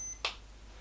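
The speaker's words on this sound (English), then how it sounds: "Just turn it on, wait for the beep." A single short beep from a Tommee Tippee digital no-touch forehead thermometer rings out once, close and clear, in an otherwise quiet room.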